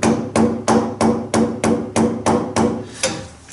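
A plywood flip-up table saw extension is tapped into place with a hammer: about nine sharp, evenly spaced knocks, loud and close, with a slight woody ring, slowing and softening toward the end.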